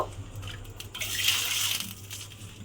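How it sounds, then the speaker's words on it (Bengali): Water poured into a cooking pot over cumin seeds and curry leaves just fried in it, a steady splashing pour rising in the middle then easing, close and moderately loud with no talk. "এইবার আমি এর মধ্যে দিয়ে দেব জল এখানে আমি তিন বাটি পরিমাণে জল দেব"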